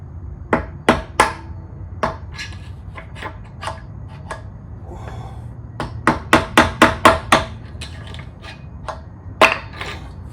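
Repeated hammer blows driving out a wheel bearing on a Honda NC700X motorcycle, sharp metallic strikes in irregular bursts including a quick run of rapid hits, close and loud over a low background hum.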